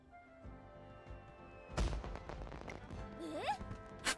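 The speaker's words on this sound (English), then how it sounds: "Fireworks! Perfect for festivities." Fireworks go off at a festival in the video game Uma Musume Pretty Derby: a burst of sharp booming cracks over light background music, followed by a rising whistle and more pops.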